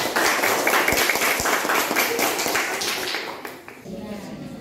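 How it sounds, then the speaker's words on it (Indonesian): Students clapping hands in a classroom, a burst of brisk claps that gradually thins and fades, with voices talking underneath. "Tepuk tangan."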